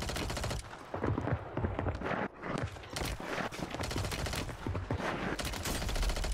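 Dense, continuous automatic gunfire in the battle royale shooter Call of Duty Warzone, loud overlapping bursts of rifle shots with barely any pause.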